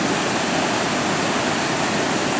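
Waterfall pouring with unusually strong flow, a steady, dense roar of rushing water filling the whole clip without pause, close and loud.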